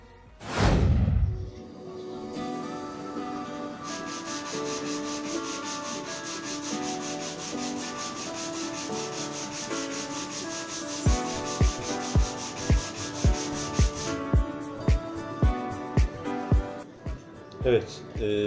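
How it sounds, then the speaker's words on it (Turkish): Sandpaper rubbed over a handmade wooden money box carved from a log, a steady scratchy hiss of sanding that later turns into quick rhythmic strokes, with a loud thump at the start. "çok ince şeyle, zımparayla alıyoruz."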